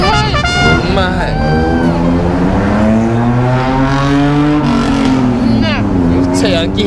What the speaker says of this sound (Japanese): ヤンキーみたいな車通って